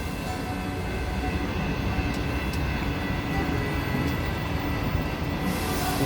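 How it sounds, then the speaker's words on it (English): A Brightline passenger train approaches a station on the Fort Lauderdale to Miami line, its steady rail rumble and wheel noise building continuously, with a brief high squeal near the end. "so the train is coming"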